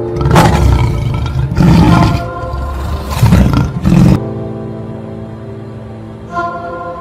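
A lion roars close and loud in a series of four heavy, grunting bursts with short gaps between them, then low fading breaths and a faint last grunt.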